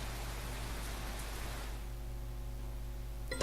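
Steady rain in the video game Tales of Berseria, a soft broadband hiss with a low hum beneath, fairly constant and unbroken, then thinning slightly in the upper range partway through.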